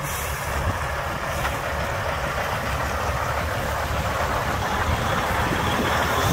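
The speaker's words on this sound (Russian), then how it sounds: "Фредлайнер едет" A Freightliner truck with a broken reducer drives up, its engine a steady loud rumble with a constant broad roar throughout and no break.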